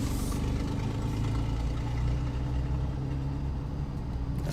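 A car engine idling steadily, a low continuous rumble holding even for several seconds, close by and fairly loud with no talk over it.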